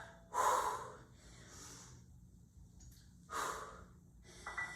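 Heavy breathing during a back strength workout, two loud close gasping inhales separated by quieter exhales and pauses, with no speech.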